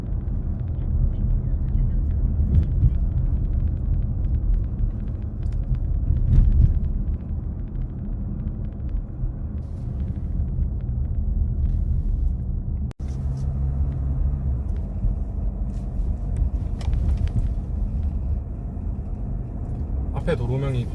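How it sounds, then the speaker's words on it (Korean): A car drives along a fairly narrow road in Incheon on National Route 6, its steady low engine and tyre rumble continuous and close throughout, with a brief sharp knock midway. "상당히 좁은 도로를 주행 중에 있습니다"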